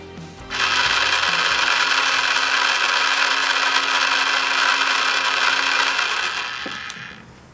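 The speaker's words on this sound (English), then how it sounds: "Let's test this motor with a 12-volt battery before proceeding to the electrical connections part." A small electric motor for a simple wired robot spins up on a 12-volt battery, giving a steady high-pitched whine that runs evenly for several seconds before winding down, heard close with no talk.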